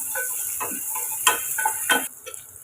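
Onions and chili sautéing in a pan for vegetable biryani, a soft steady sizzle with a few louder stirring scrapes and clicks of a spoon, close and without talk.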